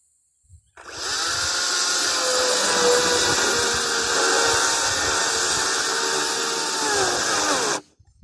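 A Makita electric chainsaw cuts through a heavy, solid timber post. Its motor whines steadily and loudly for about seven seconds, with a strained, grinding texture and no talking.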